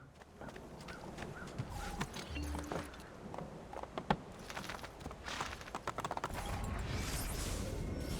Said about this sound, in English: Press A or B when next to a horse to ride it.